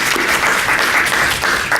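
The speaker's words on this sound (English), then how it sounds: "I just wanted to ask you for a warm applause for Traceann for kicking this off" An audience claps warmly at a patient representative training program welcome event, a dense steady burst of applause close by with no talk.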